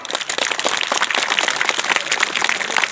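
Crowd at a community gathering clapping hard, a loud, busy patter of many hands with sharp individual claps standing out, continuous throughout and with no talking over it.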